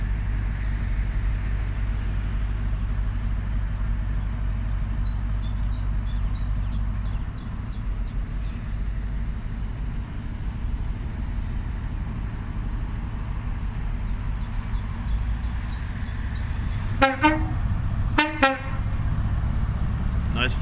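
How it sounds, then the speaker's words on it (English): An HST high-speed train pulls away from Gloucester station with a steady low engine rumble, then sounds its multi-tone horn in two loud blasts near the end, with light bird chirps in the background. "Now the HST is departing now."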